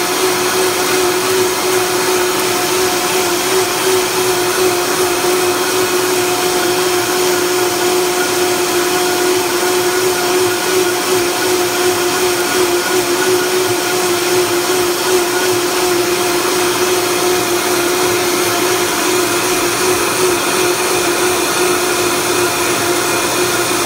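A blender whirring through a sea moss drink runs at a loud, constant roar for the whole stretch, with no pause or change in speed.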